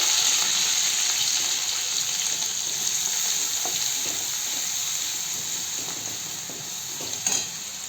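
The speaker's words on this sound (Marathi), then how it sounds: "थोडासा कढीपत्ता घालून आता मी छान मिक्स करून घेते" Chilli thecha with curry leaves sizzles steadily in a pan, a continuous hissing fry with occasional soft scrapes and clinks of stirring, close and fairly loud, with no talking.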